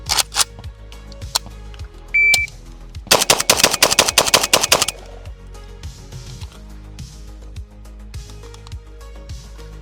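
A .300 Blackout Krink from Palmetto State Armory fires subsonic rounds through a booster, producing a loud rapid burst of about a dozen automatic shots after a couple of earlier single reports.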